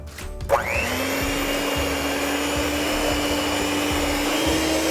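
An electric mixer starts up and blends soy cookie batter made with soy milk, vanilla extract and an egg, a loud steady motor whine that rises in pitch as it spins up, with scraping knocks underneath.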